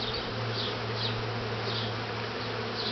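Honey bees buzz steadily at a top bar hive during a honey harvest, a dense continuous hum close by with individual bees whining past now and then.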